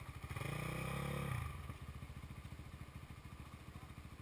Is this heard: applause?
no